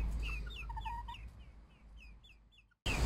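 Backyard hens making soft, faint clucks and chirpy calls in a quiet outdoor setting, several short notes spread over a few seconds, no talking.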